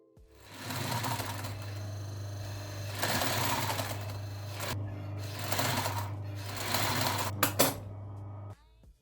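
Sewing machine running a zigzag stitch while sewing a shirt seam, a steady fast mechanical hum and clatter in several runs with slight pauses, ending with a few clicks as it stops.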